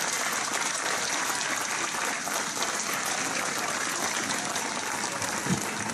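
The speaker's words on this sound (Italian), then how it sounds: "Continuiamo questo applauso per il..." Sustained applause from a large audience at a concert of the Coro di Roma, a dense, steady wash of clapping that holds at an even level throughout, with no voices standing out.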